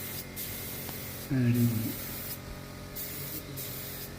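A spray gun applies clear matte melamine polish to a wooden door with a steady, continuous hiss throughout, while a brief spoken remark cuts in partway through.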